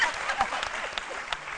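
Studio audience on a French midday TV talk show applauding, a dense, moderately loud patter of clapping through the whole stretch with a faint voice mixed in.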